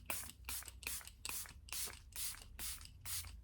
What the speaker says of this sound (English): But it has been coming out a bit weird, like not being able to get full sprays out.